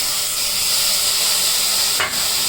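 Mutton pieces hit a little hot oil in the pan, giving a continuous bright loud sizzle and hiss, with a short sharp burst of spitting toward the end, close by and without talk.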